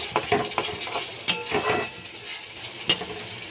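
Cumin powder and spices being sautéed and stirred in a pan for potato curry (aloo dum), with soft sizzling under repeated scraping and clinks of a spoon against the pan, close and moderately quiet.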